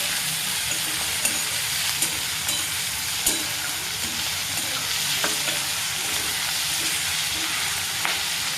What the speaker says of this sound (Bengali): রসুনটা একটু ভেজে নিই।